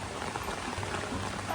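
Rain falls steadily outdoors, a continuous, even hiss of drops striking surfaces at moderate loudness, with no voices over it for the whole short stretch.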